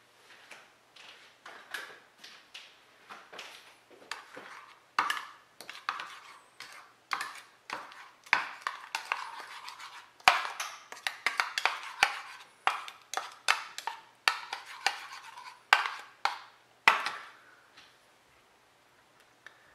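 A spoon stirs black sesame paste with a little cold water in a bowl, giving a steady run of light, sharp ticks and clinks against the bowl, close and alone, with no talking.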